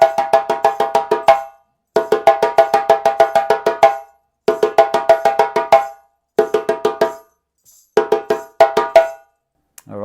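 Djembe playing the third solo phrase of the Kalayla rhythm: crisp, sharp hand strikes in rapid repeated bursts, mixing tones and slaps, grouped into several phrases separated by short pauses, loud and close with no voices.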